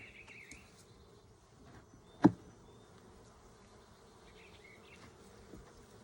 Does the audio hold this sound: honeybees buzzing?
yes